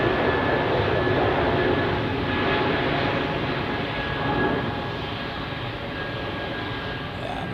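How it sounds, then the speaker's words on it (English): Airliner engines spooling up for takeoff on runway 28 at Zurich Airport, a loud sustained broadband roar heard from the spotting area, steady then easing slightly toward the end. "And we hear the engine spooling up,"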